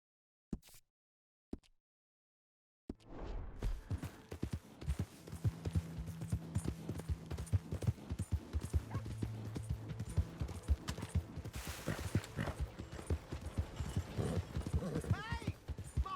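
A horse's hooves clip-clop at a steady trot in the PC version of Red Dead Redemption 2, continuous and fairly close after a couple of brief knocks and a short silence, with other game sounds layered underneath.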